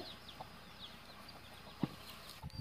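Free-roaming native country chickens with their chicks in a rural village yard make soft, scattered clucks and chirps, faint and close against quiet outdoor background.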